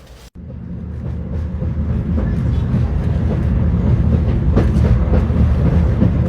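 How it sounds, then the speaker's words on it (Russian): A passenger train in Uzbekistan, bound for Samarkand, pulls away and gathers speed, a steady loud rumble of wheels and carriages with rhythmic clicking building over several seconds. "жду, пока этот поезд разгонится до скорости звука"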